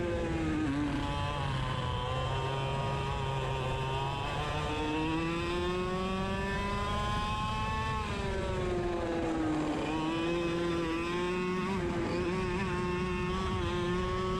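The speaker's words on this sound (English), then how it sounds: "really pushing the cart as hard as I can." Racing go-kart engine screaming continuously on a new track, pitch rising and falling as the kart is pushed hard through corners, loud and close with no talk.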